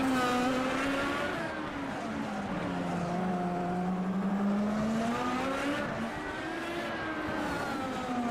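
Indycar race car in a racing video game accelerating hard out of a corner on the Long Beach street circuit, a loud continuous engine note sweeping down then climbing in pitch, steady and close throughout.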